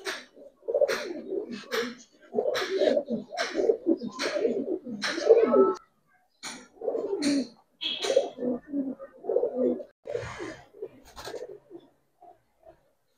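Giribaz and racer pigeons coo nearby in repeated soft, throaty bursts that come in irregular clusters with brief pauses, fading to a few faint calls at the end.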